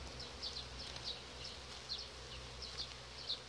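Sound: honeybees in a hive

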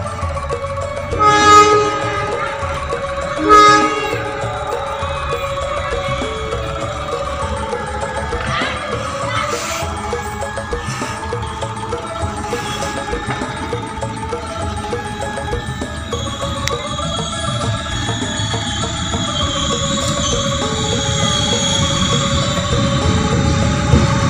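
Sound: Kutojaya Selatan passenger train arriving at Tasikmalaya station

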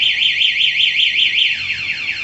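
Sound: car anti-theft alarm sounding

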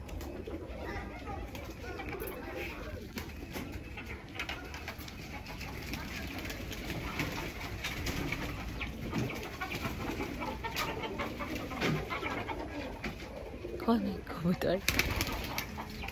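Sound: pigeons cooing at a large pigeon house

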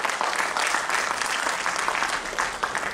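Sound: audience applause

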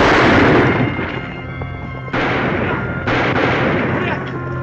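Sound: gunfire in a Western TV episode

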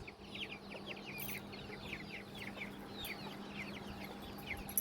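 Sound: chickens clucking

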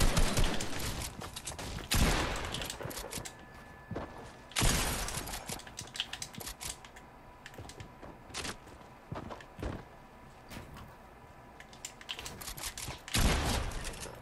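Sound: gunfire in video game Fortnite

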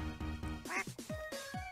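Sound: ducks quacking in video game Minecraft

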